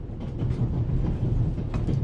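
Train ride in The Raven Remastered, a steady low rumble of a moving railway carriage with faint rhythmic clatter, continuous and moderately loud.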